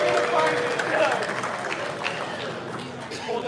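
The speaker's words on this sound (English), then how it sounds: "I hear clapping for another domestic vehicle." A crowd at the Hot Wheels Nationals 2024 sneak-peek presentation claps and cheers at moderate distance, a steady patter of applause running beneath voices close by.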